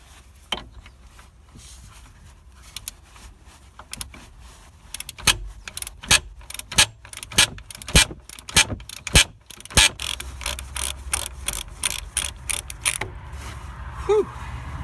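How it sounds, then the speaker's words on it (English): Ratchet wrench working the pinch bolt nut at the bottom of a Citroën Xsara Picasso front suspension, a long run of rapid, loud close-up clicks with brief pauses, steady mechanical ratcheting throughout. "Now we need to remove this nut on the pinch bolt here at the bottom."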